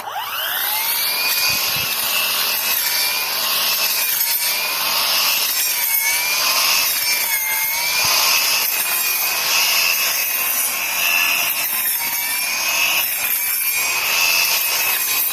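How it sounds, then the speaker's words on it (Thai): A whining electric brush cutter runs steadily and loudly, its pitch dipping and rising as it chews through dense, tall grass in a melon garden, with rough crunching underneath. "มาลองตัดหญ้าหนาๆกันดูบ้างนะครับ"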